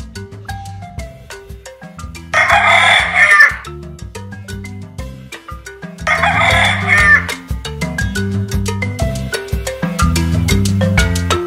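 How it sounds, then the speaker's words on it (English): A rooster crows twice, loud and close, over steady plucked background music. "Rooster."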